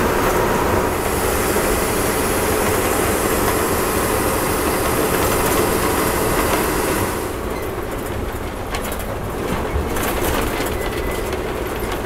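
A train runs along a railway line near the Tapi river, heard from an MSRTC bus. Its steady, close rumble and rhythmic wheel clatter fill the air, then soften slightly toward the end.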